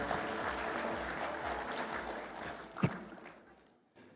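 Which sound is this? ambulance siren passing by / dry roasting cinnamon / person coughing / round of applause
round of applause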